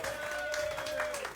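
A live show audience gives a big round of applause, a dense wash of clapping with a few steady tones running through it, lasting a short moment at even loudness.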